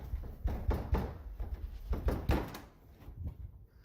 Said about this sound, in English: It's just an entity that likes banging on doors.